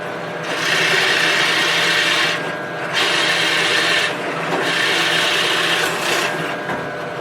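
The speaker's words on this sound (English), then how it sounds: "I'm going to use a Forstner bit to drill those" A Forstner bit drilling into wood on a mini Noah's ark project, giving a loud, steady grinding rasp in three long passes with brief pauses between them, close up and with no talking.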